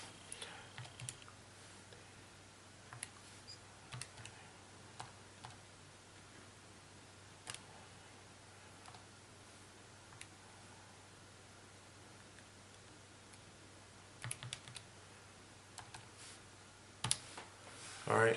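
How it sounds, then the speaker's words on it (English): Faint, scattered key clicks on a computer keyboard, a few isolated taps with a short cluster near the end, over a steady low hum in a quiet room. "Let's type that in."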